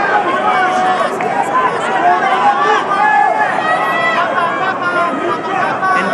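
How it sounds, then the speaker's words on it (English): A boxing crowd at a professional fight between Pacquiao and Barrios keeps up a loud, steady roar of cheering and chatter throughout, with a commentator's voice woven into the noise. "Listen to that crowd."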